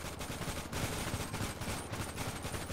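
A Draco firing in GTA 5 Online: a steady stream of rapid automatic shots, dense and continuous throughout, with no talking.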